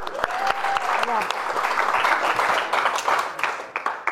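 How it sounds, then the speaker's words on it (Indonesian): An audience at a comedy roast show bursts into sustained applause, a dense wash of many hands clapping for about four seconds, with a voice or two faintly audible through it. "Tepuk tangan dulu."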